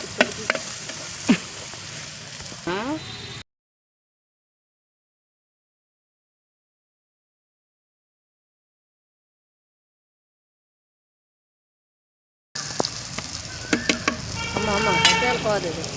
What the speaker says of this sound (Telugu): కలిపేద్దాం బాగా